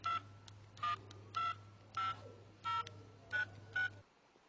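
A mobile phone number is dialed on a keypad: seven crisp, evenly spaced tone beeps over a faint steady hum, each short and clear, ending in quiet.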